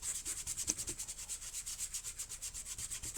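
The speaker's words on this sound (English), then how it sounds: "I'm just using this stippling brush to sort of rub in a circular motion" A stippling brush rubs paint onto a frame for a leather look, circular strokes giving a steady, rhythmic scrubbing swish about seven times a second, close and dry, no voices.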